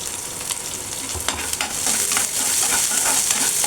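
Onions with a little salt sauté in a hot pan, giving a loud, steady sizzle that builds slightly toward the end, with scraping strokes of stirring running through it and no voices.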